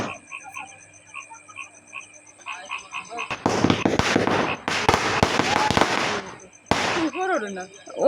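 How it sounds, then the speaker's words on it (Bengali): Firecrackers and fireworks bursting at a wedding, a dense run of loud sharp crackling pops, with frogs and insects calling in the quieter moments before and after and a voice talking. "আর এদিকে বাজি ফুটাচ্ছে।"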